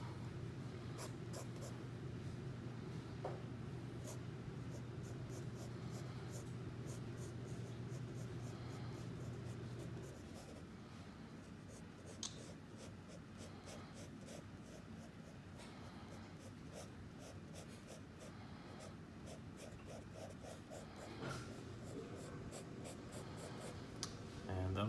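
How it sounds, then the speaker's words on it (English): Quiet scratchy strokes of a number two pencil on paper, sketching a dinosaur, repeat in short bursts, close up, with a low hum in the background. "I'm just using a normal, you know, number two pencil here."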